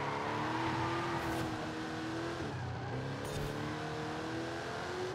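A Ford Crown Victoria police car runs through a series of bends, its engine droning steadily with shifting revs and a brief easing before it pulls again, heard up close and with no talk.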